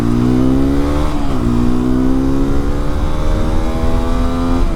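A Hero XPulse 210 motorcycle exhaust revs steadily and loudly up close, its engine tone climbing, dipping briefly, then rising again in a sustained drone with no talking.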